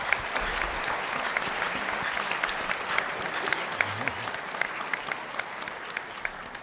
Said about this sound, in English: You can applaud them if you want to.